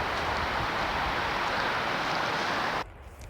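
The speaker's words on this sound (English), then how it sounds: "It's a little bit windy" Steady, loud wind roaring and buffeting against the microphone at a campsite beside a Jeep, cutting off abruptly near the end to a much quieter background.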